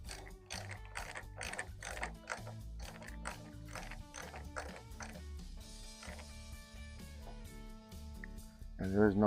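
A ratchet drives coated, sealer-treated screws into windshield trim clips during a windshield installation, making quick runs of sharp, close mechanical clicks in a steady rhythm.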